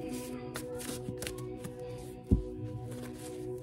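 Tarot cards shuffled for an Aquarius reading give soft, repeated riffling bursts over a steady low background drone, with one sharper tap or knock near the end.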